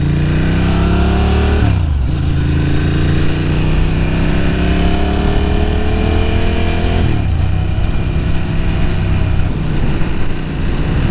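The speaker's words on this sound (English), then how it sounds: "First ride on the Sport Classic 1000S." A Ducati Sport Classic 1000S under way on its first ride: a loud, close engine drone climbs steadily through the revs, dips at two gear changes, then pulls up again.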